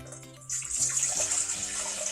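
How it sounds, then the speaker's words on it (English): Apple juice poured into a bowl makes a steady, close liquid splash and trickle that starts after a brief pause and keeps flowing to the end. "You pour half of your apple juice into the bowl."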